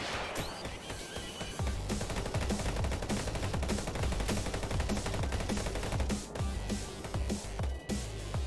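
Rapid automatic gunfire from the player in Speed Limit, a dense continuous rattle of shots lasting several seconds, with brief pauses and crashing impacts mixed in.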